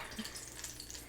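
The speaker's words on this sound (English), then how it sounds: "you can hear those spices are kind of starting to lightly fry" Spices starting to lightly fry in hot oil for a green chile pork dish, giving a faint, steady low sizzle with soft crackles, close and quiet, with no talking.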